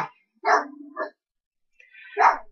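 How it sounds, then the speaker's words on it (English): A dog barks outdoors: a couple of sharp barks, a pause, then another bark, close and loud against otherwise quiet surroundings. "You hear that dog right there?"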